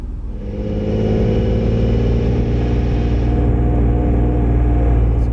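A wrecked Acura NSX engine, unstarted for over a decade, idles and rumbles steadily nearby, a low, slightly uneven, lumpy drone that holds at a constant level with no voices.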